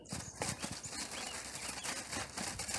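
Horse hooves clop on the ground during flag training, several clear irregular footfalls close by, over a steady hiss of outdoor background noise.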